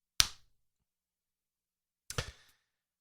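Two sharp, meaty slaps of fingers against a forehead land about two seconds apart, each a crisp close smack with a short fading tail and silence between.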